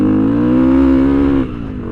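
A big-bore Honda CRF300L dual sport motorcycle pulls hard in third gear on a trail, its single-cylinder engine droning loud and steady before the throttle eases off near the end.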